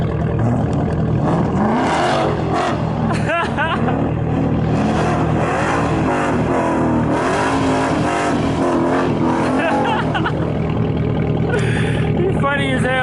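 A Camaro ZL1 revs and roars while sliding on rain-wet pavement, its engine loud and continuous throughout with rising and falling pitch, as people talk over it.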